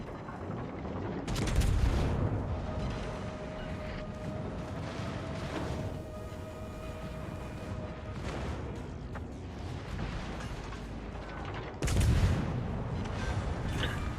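Secondary guns on a battleship in World of Warships Legends fire repeatedly at an enemy Wyoming, sharp cannon reports popping out every second or so, with two heavier booming salvos standing out among the steady rumble of naval combat.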